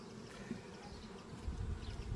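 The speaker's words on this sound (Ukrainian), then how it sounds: "Потужні в мене бджоли." Honeybees buzz around an open beehive during a frame inspection, a soft continuous hum close by, fairly faint and steady for the brief moment.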